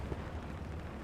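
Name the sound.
possible P-strike explosion in a video game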